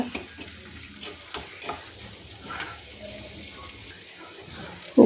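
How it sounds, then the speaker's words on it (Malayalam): Chopped shallots and garlic fry in oil, giving a soft continuous sizzle with occasional stirring scrapes, close and moderate in level, while a voice talks over it. "അരിഞ്ഞ് വെച്ച ചെറിയ ഉള്ളിയും വെളുത്തുള്ളിയും കൂടി ഇട്ട് കൊടുക്കാം അതും ഒന്ന് മൂപ്പിക്കുക"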